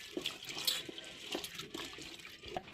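Lentils are rinsed in water for a sweet dish, with irregular splashing and sloshing drops and small pours that continue steadily at close range, quiet and without talk.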